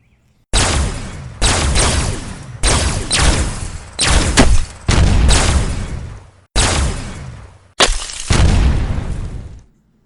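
Turret gunfire and explosions in an audio drama: loud, close bursts of rapid firing and blasts in several long volleys separated by brief silences, harsh and booming throughout.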